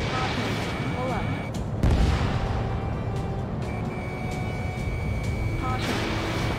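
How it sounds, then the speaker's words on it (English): Anti-aircraft gunfire in the PS4 combat flight game Ace Combat 7, a dense rumbling barrage of booms with one heavier burst, layered with cockpit warning tones and in-game radio voices. "I almost got hit by AA fire."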